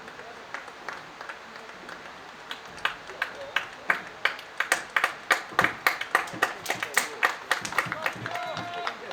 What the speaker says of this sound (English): a huge round of applause there for Diego Pineda